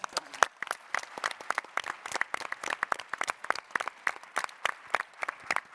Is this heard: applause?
yes